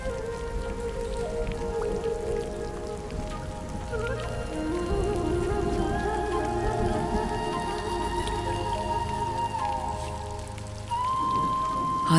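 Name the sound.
rain falling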